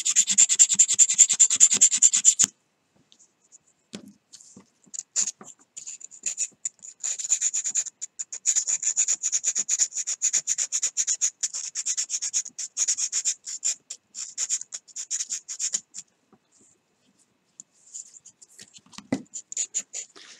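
Hand sanding of a carved wooden fishing lure with sandpaper, a close, raspy rubbing in steady back-and-forth strokes, with a long continuous burst at first, then shorter runs of strokes separated by brief pauses.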